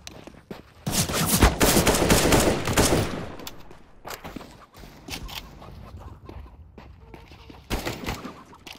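Gunfire from the video game CS:GO comes in a loud, dense burst of rapid automatic shots, followed by scattered single shots and short bursts with quieter gaps between them.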